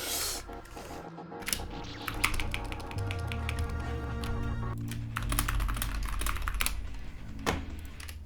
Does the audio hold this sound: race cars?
no